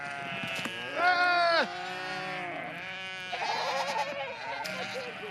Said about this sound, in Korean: 양과 염소들이 다투어 풀을 찾아갑니다